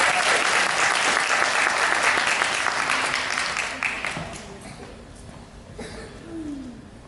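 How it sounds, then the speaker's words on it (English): A crowd at a beauty academy graduation claps steadily for several seconds, then the applause fades away, leaving a few scattered claps and quiet room noise. "Let's give her another round of applause."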